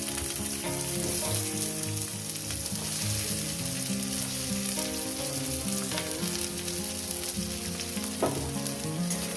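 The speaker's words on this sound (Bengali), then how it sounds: "তেল আমার গরম হয়ে গেছে পেঁয়াজগুলো আমি দিয়ে দিই" Sliced onions sizzle and crackle loudly after going into hot oil in a pan, for a pointed gourd (potol) mash, with continuous dense frying and occasional stirring scrapes close by and no talk.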